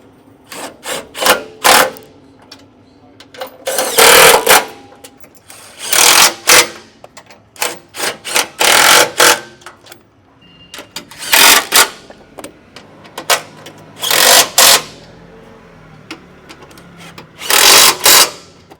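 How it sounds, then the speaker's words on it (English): Ratcheting wrench bursts tighten rock slider bolts on a Toyota Land Cruiser 250, coming in short, loud, close-up clusters of rapid clicks separated by brief pauses, with no talking. "Now we're going to tighten the bolts down"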